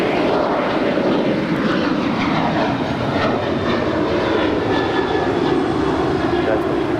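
A United airliner takes off from runway 25 right at LAX, a loud steady jet engine roar filling the whole stretch without pause, with faint radio chatter beneath.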